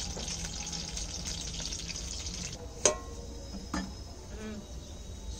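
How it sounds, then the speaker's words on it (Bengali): Two dried red chillies frying in hot oil in a pan, giving a steady, soft, broadband sizzle with a few brief pops and crackles partway through. "শুকনা লঙ্কা দিয়ে দিলাম, দুটো শুকনা লঙ্কা ভেজে নেব।"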